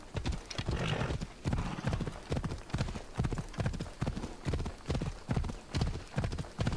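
Steady clip-clop of a horse's hooves while riding cross-country in Assassin's Creed Odyssey, a continuous galloping rhythm of repeated thuds, loud and close, with an occasional faint whinny and no talk.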